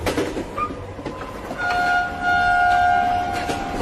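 A passenger train rolls along on a journey toward Karachi, its carriages giving a steady rumbling clatter while drawn-out horn or whistle tones sound over the top, with no talking.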